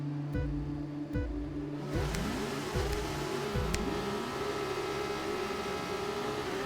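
Engines of F2 race cars in the F1 25 video game rev and roar as the field launches from the grid, with repeated sharp gear-shift bursts over a steady loud engine drone.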